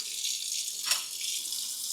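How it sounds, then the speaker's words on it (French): A steady hiss of water running from a kitchen tap, fairly quiet and continuous with a brief swell in the middle. "J'ouvre le robinet"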